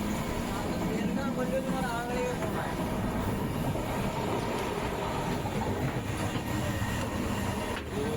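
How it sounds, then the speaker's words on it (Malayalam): Passenger train running through Andhra Pradesh toward Nellore, heard from inside the carriage as a constant rolling rumble with rattles and faint wheel squeal, while passengers' voices murmur in the background. "അപ്പം നമുക്ക് ട്രെയിനിൻ്റെ അകവശത്തെ ഒരു ചെറിയ ദൃശ്യം കൂടെ കാണാം"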